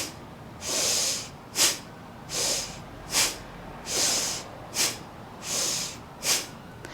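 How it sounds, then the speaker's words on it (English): Bhastrika pranayama breathing: forceful nasal breaths close to the mic, each longer drawn-in inhale followed by a short sharp exhale, in a steady rhythm of about four cycles. "it's like a deep inhale"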